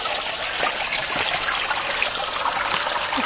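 A forest stream runs with a continuous, fairly loud rushing and trickling of water, nearby and unbroken, with no one talking.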